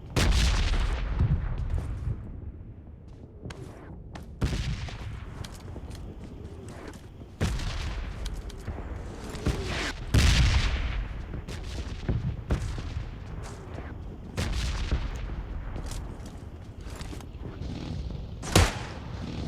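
Gunfire rings out in a PUBG-style battle royale game, including a Kar98 rifle, with repeated loud sharp shots and booming reports spaced irregularly through a steady background of game noise.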